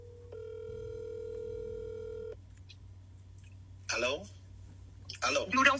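A telephone dial tone plays through a speakerphone as a call is placed, a steady, clear tone that lasts about two seconds and then cuts off. Voices speak afterward.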